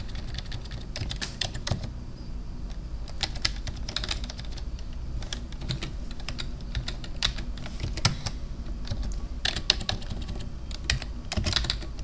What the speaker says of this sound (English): Apparently because I can't type well today.